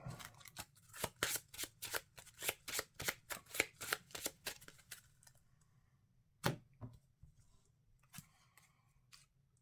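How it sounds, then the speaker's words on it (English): A deck of Marvel Champions game cards is shuffled in a quick run of crisp, rhythmic riffle clicks. A couple of softer taps follow near the end, and the sound is close and quiet. "I think I'm going to shuffle Scorched Earth back into my deck."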